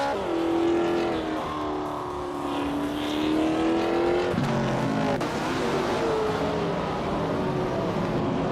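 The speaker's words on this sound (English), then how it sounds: "Spearlike is driving a 1969 AMC Javelin Day." A 1969 AMC Javelin race car engine roars steadily in a racing video game, holding a loud sustained pitch that dips and climbs again through gear changes, with other engine noise layered behind and no talk.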